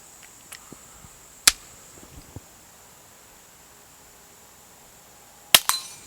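An Air Venturi V10 air pistol is fired at a paper target: two sharp, isolated cracks several seconds apart, plus a few faint clicks, against a quiet background.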